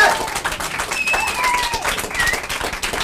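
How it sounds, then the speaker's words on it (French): A studio audience claps loudly for a guest on a French local TV set, a dense, steady burst of many hands with cheering voices mixed in, filling the whole stretch without pause. "je vous demande d'applaudir très très fort"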